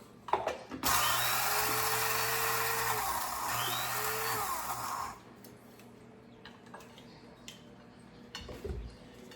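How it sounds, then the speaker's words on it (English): An electric spice grinder whirs loudly as it grinds oats into flour, a steady high motor roar for about four seconds before cutting off, followed by quieter handling clicks and taps. "I use my spice grinder to grind them up to make a flour"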